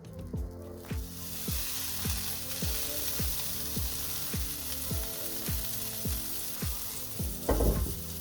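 A knob of butter sizzles in a pan on the back of a stove, a close, steady frying hiss with repeated soft ticking pops and a louder clatter near the end.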